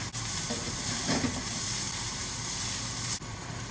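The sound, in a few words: ginger and garlic sizzling in hot oil in a wok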